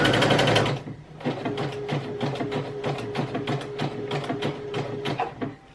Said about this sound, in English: I'm just going to continue to sew across that edge, and I'm going to come and meet to the previous zigzag stitching